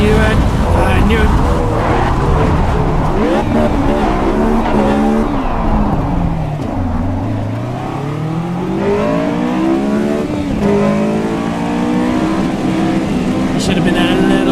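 Honda S2000 in Assetto Corsa EVO driving hard with loud engine revving that swoops down and climbs back up as the car slides, with tire noise under it and a person talking over it throughout.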